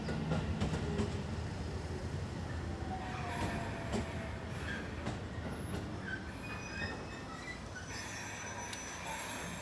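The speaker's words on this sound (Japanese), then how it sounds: "まもなく上り列車が参ります。" A train pulls into a station platform, with rumbling wheels, clattering cars and a rising squeal of brakes and wheels that carries on steadily for the full stretch, loud and close, with no talk over it.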